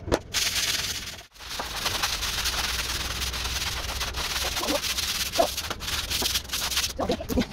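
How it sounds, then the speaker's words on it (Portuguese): Floor of a home yard scrubbed with bleach, a brush rasping rhythmically over wet ground in steady strokes, close and fairly loud, with a brief pause near the start and a few sharper scrapes later. "já esfreguei todo o chão"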